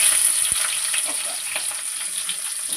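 Cloves and onion frying in oil for a village-style duck masala curry, a steady close sizzle with faint stirring scrapes throughout and no talking.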